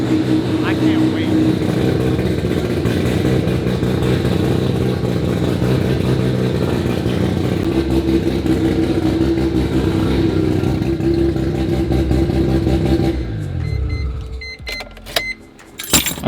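The rotary engine of a Mazda RX-7 runs at a steady, loud idle, then shuts off and goes quiet near the end, leaving only faint clicks and handling noises.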